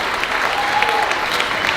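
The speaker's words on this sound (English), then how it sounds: "Let's give a big, big round of applause for Dilip and his team" An audience at a 2019 Diwali show applauds Dilip and his team with a short, steady burst of crowd clapping, full and even for under two seconds.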